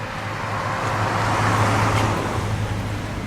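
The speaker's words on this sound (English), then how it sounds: "Hey, that car's going the wrong way, isn't it?" A car drives past on a road near the Monkton Coke Works site in Hebburn, a steady close roar of tyres and engine that swells toward the middle and fades slightly, with no voices over it.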